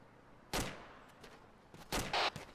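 Gunfire in ArmA 2 at a checkpoint: a loud single shot, then a pause with faint sounds, then a quick cluster of two or three sharp reports near the end, with no talking.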